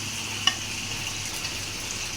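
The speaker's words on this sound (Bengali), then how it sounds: "এই যে এখানে আমার মাছ ভাজা হচ্ছে" Fish frying in a pan beside a pot of vegetables, giving a soft, steady sizzling hiss that stays even throughout with one brief click near the start and no voices.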